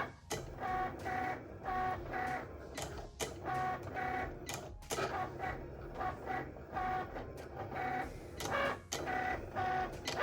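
A Cricut machine writing on a card with a pen, a close, mechanical whirring and clicking of the carriage moving in short bursts, with small taps and pauses between strokes, alone without talk.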